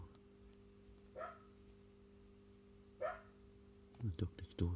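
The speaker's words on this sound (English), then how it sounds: "The dog next door started barking." A dog next door gives two faint, distant single barks over a low indoor hum, followed by a close voice speaking.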